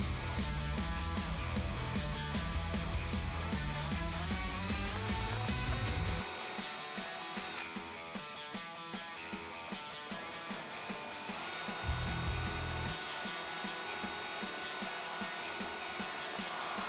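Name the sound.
power drill drilling holes in plastic trim pieces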